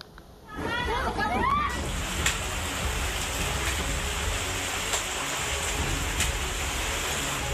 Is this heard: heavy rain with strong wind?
yes